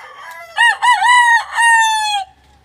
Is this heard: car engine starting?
no